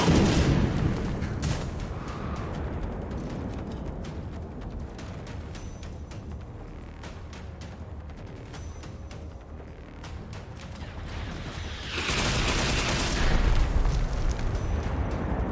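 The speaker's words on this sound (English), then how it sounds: "Those are rockets." Rockets exploding in a video game give a continuous barrage of loud booms and bursts, growing heavier toward the end, with no speech.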